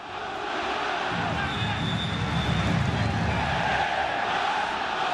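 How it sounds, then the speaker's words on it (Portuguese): Vasco football fans in a stadium chant in a massed crowd roar that builds after the first second and holds steady and loud, with no single voice standing out. "Ó a torcida, ó a torcida, ó."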